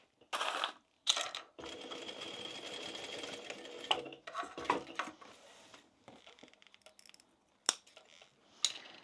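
A domestic sewing machine stitching a fabric tote bag, running in steady whirring bursts between clicks and handling noises, close and fairly loud, without speech.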